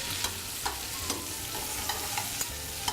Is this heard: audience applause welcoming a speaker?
no